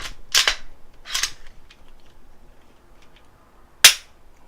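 A Glock pistol slide is reassembled onto its frame, producing three sharp metallic clacks: two close together at the start and a louder, crisp snap near the end, with quiet gaps between and no talking.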